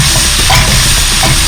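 Vegetables are stirred in a hot pan with a loud, steady sizzle and frying crackle. A spatula scrapes through briefly, heard up close and alone without speech.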